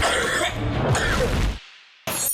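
A person in a cough medicine advert coughs and clears the throat in harsh, raspy bursts, close and loud, cut off by a short silence before another sound begins.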